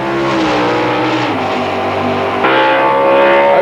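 A drag racing car launching hard down the strip, its engine bellowing loud and close with a rising, strained roar, briefly dipping before surging again even harder.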